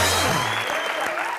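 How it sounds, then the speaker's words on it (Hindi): A studio audience at the Comedy Nights With Kapil comedy show claps in a dense burst of applause, with a voice speaking over it. "जोरदार तालियां इन सबके लिए।"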